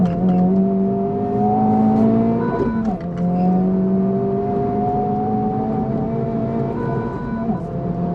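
A 2023 Honda Civic Type R engine hums steadily while driving, with its pitch dipping and rising through quick throttle blips around shifts, loud and close with no talking.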